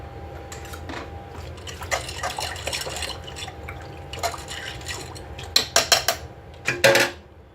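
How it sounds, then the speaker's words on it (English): Spices stirred into 15 bean soup in a crock pot, a spoon clinking and scraping against the pot in a few sharp taps near the end over soft wet swishing, close and fairly quiet. "And just give that a little stir."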